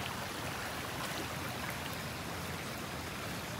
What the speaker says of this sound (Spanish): Miren, aquí el río está detrás de mí.